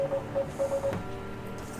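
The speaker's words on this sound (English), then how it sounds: "Is that Morse code?" A Morse code signal coming through comms in a video game: short and longer pure beeps pulse in a clear rhythm over a faint radio-like background, with a small blip near the end and no talk.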